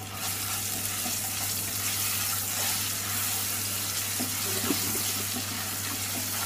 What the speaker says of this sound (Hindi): अब डालेंगे अदरक लहसुन का पेस्ट,